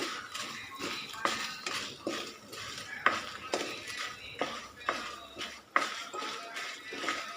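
Spices such as coriander seeds, cumin, mustard, fenugreek and chillies dry-roasting in a pan with a spoon of oil, a soft, irregular series of spoon scrapes and clinks over a faint sizzle.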